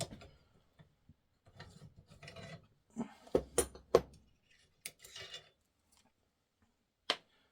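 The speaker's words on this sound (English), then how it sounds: "You see the bolt fully closes on the go gauge." Rifle bolt being worked and closed on a headspace go gauge while fitting a short-chambered barrel: sparse metallic clicks, slides and a few sharp clacks, close and isolated against near silence.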